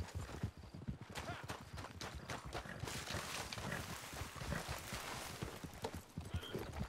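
Horse hooves clip-clopping at a steady canter in the Red Dead Online video game, with rapid rhythmic thuds and an occasional whinny, while players talk over the top.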